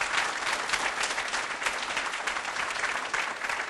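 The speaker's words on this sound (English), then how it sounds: "Big round of applause for McLean Hospital." A crowd at a 2011 benefit night gives a big round of applause for McLean Hospital. The clapping is thick and sustained, like a full room clapping together, and keeps a steady level throughout.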